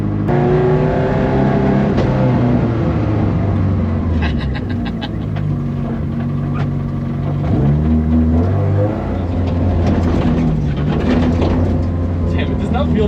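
A 1200 wheel-horsepower Mustang rally car with a Barra engine drives hard on a stage, its loud engine climbing and dropping in pitch through repeated surges and gear changes, with people talking over it inside the car.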